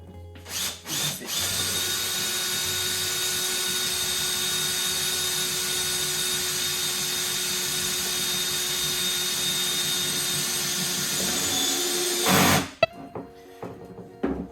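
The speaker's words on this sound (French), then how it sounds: "vous venez prendre vos vis autoperforeuses et donc vous venez donc, dans chacun des trous qui sont là" A power drill drives self-drilling screws into metal elbow brackets while assembling a spa cover lifter, whining steadily and loudly for about eleven seconds after brief starts, then stopping abruptly with a few clicks.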